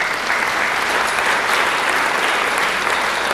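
Steady applause from a school Christmas concert audience, dense clapping that holds at an even level throughout without a break.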